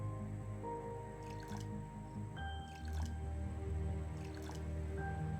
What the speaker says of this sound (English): I can hear you refilling that thing from here.